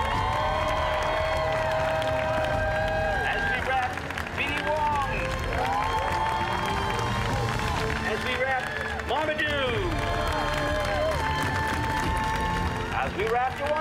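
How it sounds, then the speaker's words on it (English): A film crew applauds and cheers on the final night of shooting Jurassic World Dominion, sustained clapping and whoops filling the space under shouted voices and crowd chatter. "Huge round of applause"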